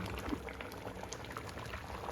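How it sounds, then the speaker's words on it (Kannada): Paneer masala curry with kasuri methi simmering in a pan, a soft continuous bubbling with small pops, quiet and close. "ನಂತರ ನೀವು ಇದಕ್ಕೆ ಕಸ್ತೂರಿ ಮೇಥಿನ ಕೂಡ ಆ್ಯಡ್ ಮಾಡಿಕೊಂಡು ಒಂದು 2 ನಿಮಿಷಗಳ ಕಾಲ ಕುದಿಸ್ಕೊಂಡ್ರೆ ಸಾಕಾಗುತ್ತೆ"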